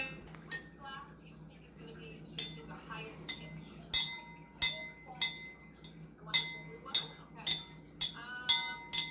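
Drinking glasses struck one after another to make different pitched tones, about a dozen bright clinks ringing out in an uneven rhythm against a quiet indoor background with faint voices.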